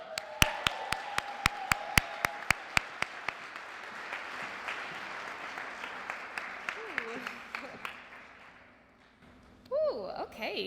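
Audience at a city Black History Month ceremony applauding to welcome an ABC News reporter, several sharp close claps over a steady crowd patter that fades away, followed by brief talk and a microphone rustle.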